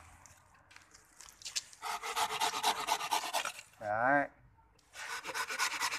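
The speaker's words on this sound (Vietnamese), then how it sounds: "đây cưa các cái rễ này nhá" A pruning hand saw with a roughly 20 cm blade cuts through plant roots in two bursts of rapid, rasping back-and-forth strokes, close by, separated by a brief spoken word.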